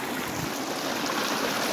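A cold hill stream in Nepal rushes in a steady, dense, broadband wash of flowing water, close and continuous with no voices.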